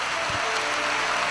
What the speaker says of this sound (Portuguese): E todos, uma grande salva de palmas a Jesus